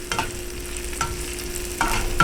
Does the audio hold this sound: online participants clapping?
no